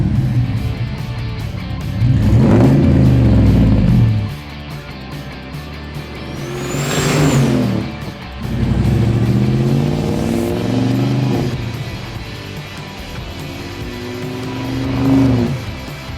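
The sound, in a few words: 1967 Pontiac Tempest with turbo motor engine revving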